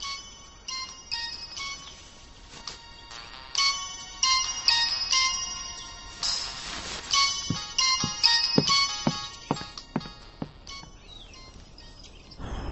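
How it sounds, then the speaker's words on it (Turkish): A mobile phone rings with a bright, repeating electronic melody, its chirpy tones recurring through the passage at moderate loudness with no talking over it. "Asi, telefonuna bakar mısın lütfen?"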